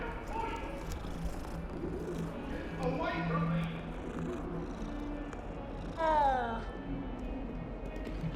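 A cat in Hogwarts Legacy gives a few soft meows and purring sounds, with one clearer rising meow near the end, heard faintly beneath game ambience.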